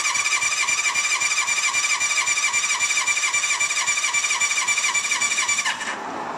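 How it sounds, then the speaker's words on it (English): A 1978 Honda CB550 motorcycle engine cranking on the electric starter with the throttle held wide open during a compression test, a loud rapid rhythmic whirring churn with a high whine that runs steadily for several seconds, then stops abruptly. "Hold your throttle wide open and hit your starter button for about maybe 5 or 6 seconds."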